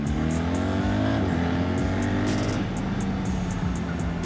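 A BMW R1300GS motorcycle accelerating hard, a loud, close engine drone with rising revs and a gear change partway through, followed by steady high-speed running.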